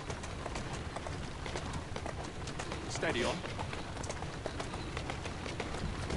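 Horse hooves clip-clop at a steady pace in Assassin's Creed Syndicate, a continuous patter set within dense game ambience and bird coos, with a voice speaking briefly over it.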